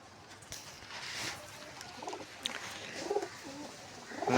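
Pigeons in a loft, including black birds, give soft, low throaty coos. The sound is faint, with a few short calls rising near the end over quiet background rustling.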